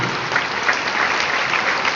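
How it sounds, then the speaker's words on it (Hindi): Audience applause at a Hindi patriotic recitation event, a steady dense wash of many hands clapping, moderately loud and continuous throughout without pause. "तालियां कमजोर है दोस्त आपकी।"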